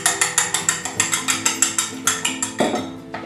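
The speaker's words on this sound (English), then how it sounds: "I'm just gonna use the whisk and beat these up" A whisk beating butter, eggs and vanilla in a bowl for coconut cream pie, a fast, even series of clicking metallic strokes, about six per second, close and alone.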